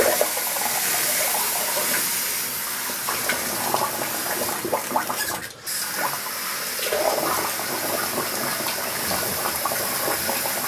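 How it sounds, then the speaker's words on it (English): Cold water running from a tap for a rinse during shaving, a continuous close splashing rush that briefly cuts out midway and then resumes, no talking. "Let me do a cold water rinse here"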